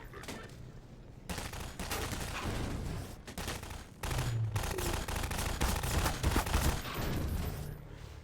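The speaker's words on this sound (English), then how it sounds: "Who's shooting?" Rapid gunfire in Half-Life 2, with dense bursts and volleys of shots that run almost continuously and loud, broken by a few short pauses. A faint voice is heard briefly.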